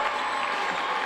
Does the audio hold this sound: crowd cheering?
yes